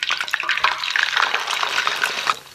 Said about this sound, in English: Put the fillet strips back into the oil and re-deep fry for 1 minute.